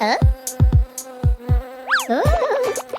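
Bees buzz in rising and falling whines, playful and close, over a steady pattern of soft thumps.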